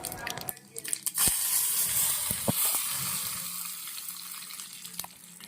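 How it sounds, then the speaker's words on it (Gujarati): Mustard seeds and cumin hit hot oil for a Gujarati tempering with curry leaves, for a semolina sandwich batter, giving a faint, steady sizzle with scattered sharp pops and crackles from the seeds as the spices fry. "હવે એમાં રાઈ જીરું નાખી અને આપણે એનો વઘાર કરીશું"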